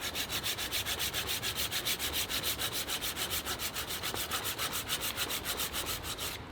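A Cold Steel saw cuts wood in a regular back-and-forth rhythm of rasping strokes that bite on both push and pull, close and steady, with no voices.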